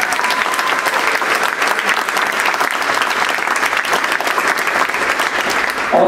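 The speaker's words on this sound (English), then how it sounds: "So can we give a huge round of applause to the music boosters?" Sustained audience applause at a high school concert band performance fills the hall, a dense steady roar of clapping hands with no pauses throughout.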